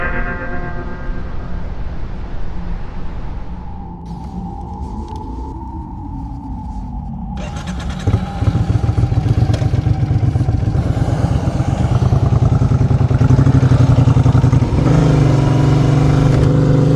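Motorcycle with a sidecar, its engine rising from a steady idle into loud, throaty revving that builds and holds near the end, close and continuous with no talk.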